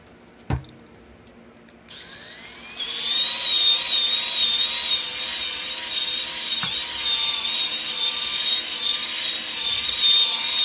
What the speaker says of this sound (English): When you find that it's not really sanding anymore,